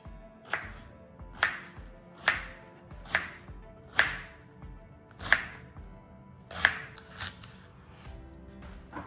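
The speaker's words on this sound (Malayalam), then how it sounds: "ക്യാബേജ് ഞാൻ കട്ട് ചെയ്യുന്നത് ഒരു നീളത്തിൽ കട്ട് ചെയ്യാൻ പോവാണ്" A knife cutting cabbage lengthwise on a board, with eight crisp, evenly spaced chops about a second apart, each a sharp close crunch, in an otherwise quiet kitchen.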